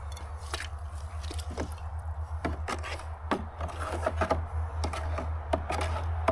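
Elderflower kvass mixture being stirred by hand produces irregular wet squishes, drips and scraping knocks, close up, over a low steady hum.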